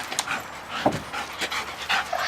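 A young working dog, just turned two and trained for bite work, pants in quick, rhythmic breaths close by, with a few louder huffs and no talking.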